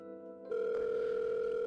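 A telephone call that fails to connect: a steady, loud electronic tone begins after a short quieter stretch and holds without a break, with no voices.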